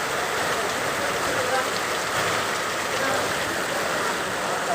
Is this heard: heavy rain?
yes